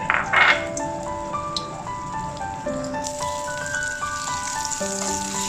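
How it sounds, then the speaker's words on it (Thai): Red curry paste sizzles in a hot pan as it is stir-fried for a Thai bean and fish ball dish, a soft continuous frying hiss with a brief louder spatter at the start, under light tonal background music. "ทำการผัดพริกแกงนะครับ ผัดพริกแกงให้พริกแกงเหลืองหอมนะครับ"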